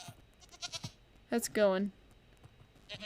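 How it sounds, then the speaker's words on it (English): Goats bleat in Minecraft 1.17, one wavering, nasal bleat loud and close, with softer animal sounds and someone talking before and after it. "so these are goats"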